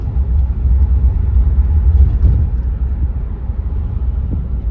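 A 1954 Chrysler Imperial limousine engine idling, a steady low rumble with a deep, even throb close by and no voices.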